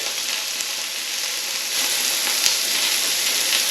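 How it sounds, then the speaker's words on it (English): Onions and peppers fry in a pan for spicy chicken udon noodles, giving a steady, loud, close sizzle that swells slightly midway, with no talking. "Now just going to let these fry off for a couple of minutes."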